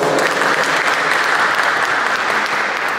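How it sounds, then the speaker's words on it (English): Applause for the Bronx Pride Coalition at a press conference with the Bronx LGBTQ Center, where a room full of people claps loudly and steadily for about three seconds. "Let's give them a strong round of applause"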